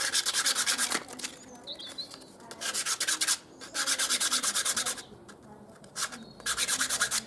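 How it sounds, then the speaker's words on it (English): Sandpaper rubbed up and down the edges of a wooden bench hook, heard as repeated bursts of close, loud scratchy rubbing strokes separated by short pauses. "Now we've got a sandpaper, we just rub up and down those edges."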